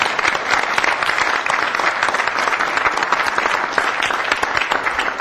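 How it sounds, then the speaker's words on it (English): Sustained applause from an audience at a city council meeting, dense and steady clapping filling the room for several seconds without pause. "Let's give them a round of applause."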